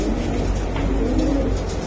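Racing pigeons cooing close by, a soft continuous run of throaty coos with no talking.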